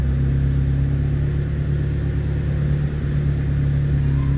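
Pick-up truck engine, a T120SS, idling while warming up below 1000 RPM, a steady low rumble with constant loudness throughout.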